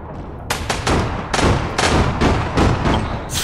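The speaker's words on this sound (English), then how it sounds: "Got festered by a mortar." Repeated heavy mortar blasts and gunfire in the online shooter APB Reloaded, a rapid series of loud booming impacts about every half second, close and dense with no talking.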